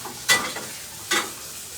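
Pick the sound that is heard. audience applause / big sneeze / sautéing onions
sautéing onions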